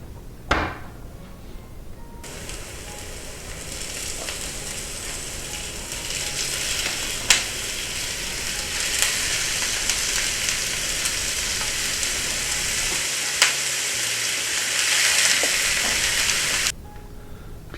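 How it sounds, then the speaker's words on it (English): Muskox meat and onions browning in a pan on a stove give off a steady, loud sizzle that holds for about fourteen seconds, with a few sharp clicks and scrapes of a utensil along the way. It stops abruptly near the end. "we're gonna fire up the stove here, brown the meat and the onions"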